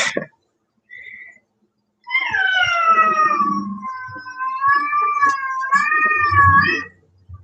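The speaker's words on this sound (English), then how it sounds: "My cats." House cats meow and yowl nearby, a short cry first, then long wavering caterwauling calls stretching over several seconds, loud and close with no talk.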